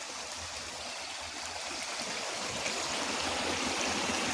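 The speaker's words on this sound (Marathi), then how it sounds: "या बंधाऱ्याच्या बाजूने पाणी चाललेलं आहे।" A stream runs past a silt-filled forest-department check dam deep in thick jungle. The gurgling, rushing flow is steady and close, and it swells slightly louder toward the end, with no voices.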